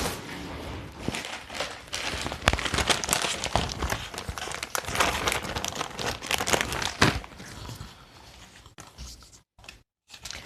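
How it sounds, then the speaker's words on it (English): Red tape pulled and pressed onto a paper journal card, giving a near, continuous run of crinkling, crackling strip-and-rub sounds with brief quiet gaps near the end. "I'm going to put him on with some red tape."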